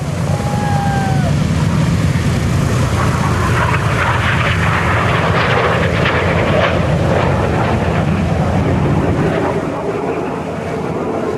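A loud, continuous roar of Red Arrows jet aircraft passing overhead at RAF Duxford, broadband and rushing, with wind buffeting the microphone throughout.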